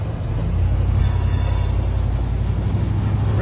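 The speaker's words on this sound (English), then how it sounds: "Racing the train." A freight train rolls past on the railway close by, a dense, steady rumble of wheels on track with a high metallic squeal of wheels running over it.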